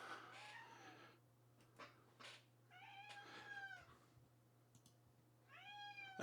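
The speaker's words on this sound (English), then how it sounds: "And I have a screaming cat." A cat screams and meows several times indoors, with loud drawn-out cries at the start, middle and end of the clip over a steady low electrical hum from a synthesizer setup.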